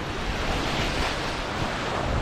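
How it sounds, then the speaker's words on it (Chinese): Large wind-driven waves crash steadily on the shore of Bosten Lake in strong wind, a dense, continuous roar of surf with gusting wind buffeting the microphone throughout. "好大的浪啊！"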